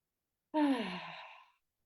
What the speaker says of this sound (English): And one more deep breath.